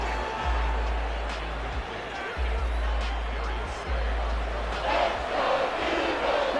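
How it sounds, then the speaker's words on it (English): A stadium crowd in Madden NFL 24, Commanders versus Eagles, roars steadily and swells louder near the end, with a commentator's voice faintly underneath. "This crowd turning up the decibel level."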